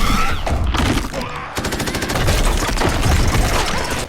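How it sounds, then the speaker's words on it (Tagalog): A team fires at an alien in a movie scene, a loud continuous burst of rapid automatic gunfire after a short pause, dense and close with no talk. "at ang koponan ay agad na nagpaputok."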